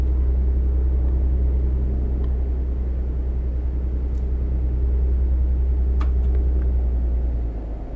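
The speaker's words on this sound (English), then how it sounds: "guy's braking quite heavily there" A heavy truck brakes hard in the Truck Driver video game on PS4, its engine and road noise forming a steady, loud low rumble throughout, with a few faint brief clicks and squeaks and the drone dropping off near the end.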